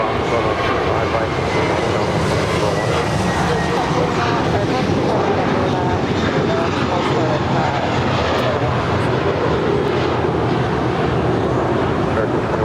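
Jet airliners at Los Angeles International Airport, a loud sustained roar of engines with wind rumble on the microphone, steady for the whole stretch, with air traffic radio chatter faintly mixed in.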